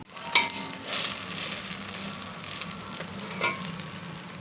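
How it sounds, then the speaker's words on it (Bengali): Ash gourd leaf fritters (bora) fry in a pan with a steady, close sizzle of hot oil. Two or three sharper clinks and stirring scrapes cut briefly through the bubbling. "চাল কুমড়োর পাতার বড়াটা এখানে একটা হচ্ছে, আর এখানে দুটো হবে, তিনজনের জন্য তিনটে ভেজে নিচ্ছে।"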